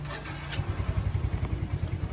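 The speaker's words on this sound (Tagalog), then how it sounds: "Parinig ko sa inyo yung tunog ng makina." An M3 160cc scooter engine, newly repaired and breaking in, idles close by with a steady, low, pulsing putter.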